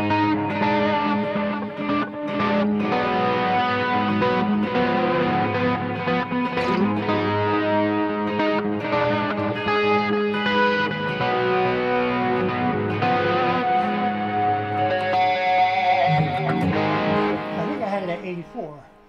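Heavy 80s metal tone of a distorted electric guitar played through a Boss eBand JS-10 with roomy hall reverb, sustained riffs and chords ringing loud and continuous throughout.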